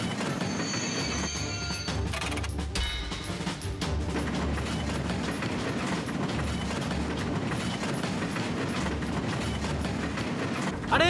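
A cartoon train rumbling along the rails, a continuous loud rolling clatter with squeals and a brief crash early on, running for the whole stretch without voices.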